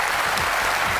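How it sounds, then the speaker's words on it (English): A studio audience breaks into applause on a television quiz show, a dense burst of clapping that is loud and close throughout this very short moment. "I think that deserves a round of applause"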